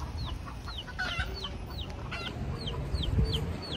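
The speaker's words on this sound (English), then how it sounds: "chicken." Chickens cluck outdoors on a walking tour at Fort Christian in St. Thomas, a run of short clucks mixed with chirping birds over steady background noise, moderately loud.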